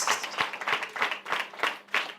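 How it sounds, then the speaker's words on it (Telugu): A church congregation claps in bursts during a Sunday sermon, about seven sharp rhythmic pulses of applause, fairly close and steady throughout. "Give big claps to Jesus Christ."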